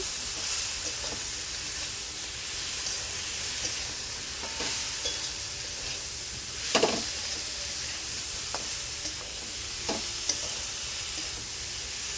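Spice mix of chilli, turmeric and sugar being stir-fried for ghugni, a soft steady sizzle under occasional scrapes and taps of a spoon against the pan.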